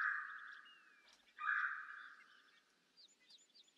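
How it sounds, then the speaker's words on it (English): A red-bellied woodpecker calls in the Birding Simulator game: a loud, rolling trill repeated twice, with fainter higher chirps from other birds toward the end and no talk. "That sound is typical for the red-bellied woodpecker inhabiting this region."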